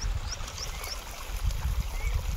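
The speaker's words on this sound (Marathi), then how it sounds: "इकडनं का धबधबा वाहतल्याने वाहते." A waterfall runs down a green mountainside, giving a steady, moderately loud rush of flowing water with a few faint high chirps drifting above it.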